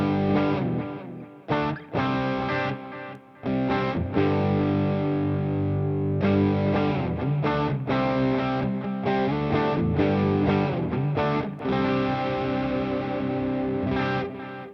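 Distorted electric guitar played through a Quad Cortex with a mono digital delay and ambience reverb, sustained chords and single notes ringing out with echoing repeats and a washy tail, loud and alone.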